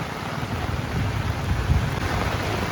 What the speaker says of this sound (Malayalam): ഈ മഴ ഇപ്പോൾ പെയ്യാൻ തുടങ്ങിയിട്ട് 1/2 മണിക്കൂറായി കേട്ടോ